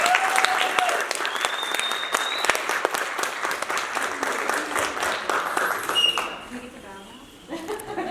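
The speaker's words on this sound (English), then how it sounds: "so let's give them a final round of applause." An audience at a mental health and substance use panel applauds steadily, with dense clapping that holds for about six seconds and then fades. Scattered claps and a voice follow afterwards.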